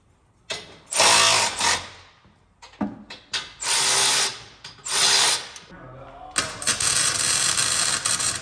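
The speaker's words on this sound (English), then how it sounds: "So I'm gonna drill and thread them for 1/4-inch bolts." A power drill bores into steel plates for 1/4-inch bolts on side steps for a 4x4 GMC van, in loud close bursts of whining drilling broken by short pauses and clunks.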